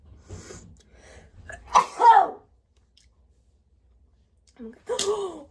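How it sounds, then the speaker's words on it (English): A single sharp sneeze bursts out close and loud after a quiet indoor breath or two, followed by silence and then a brief vocal sound. "I have to sneeze."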